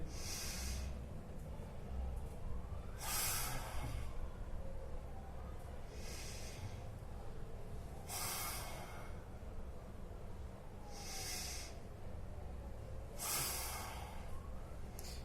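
Forceful exhalations through the nose, repeated about every two to three seconds, each a sharp hissing puff over a low background hum.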